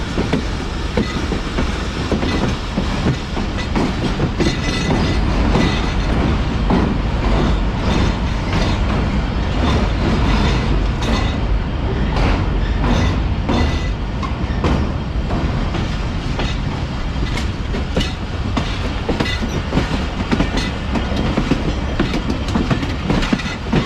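Allama Iqbal Express train approaching Kotri junction railway station, a steady loud rumble with rhythmic clickety-clack of wheels over rail joints and faint squeals, continuous throughout with no talk.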